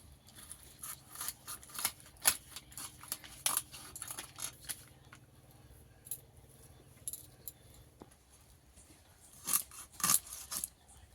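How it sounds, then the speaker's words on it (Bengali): Cutting the gill of a snakehead (shol) fish during kitchen prep: a quiet string of sharp, crisp snips and clicks in irregular bursts, with brief pauses, and no talking. "প্রথমে এর গালটা কেটে দেব।"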